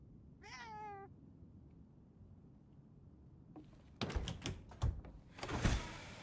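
A cat meows once, clear and close, in a quiet barn in a video game. It is followed by clunks and thuds like a door moving, with no talking.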